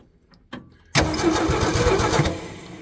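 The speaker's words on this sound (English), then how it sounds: "crank the engine over a couple times, and we'll see if this works or not" The engine of a 1966 Ford F100 cranks over for a compression test, a loud rhythmic chugging of the starter that runs steadily for about two seconds after a brief click.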